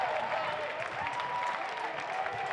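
A baseball crowd at a Tuatara game breaks into sustained cheering and applause after a single, a steady wash of clapping and voices filling the ballpark with no pause.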